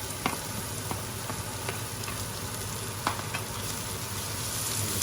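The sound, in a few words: bacon, shallots and shredded carrot frying and being stirred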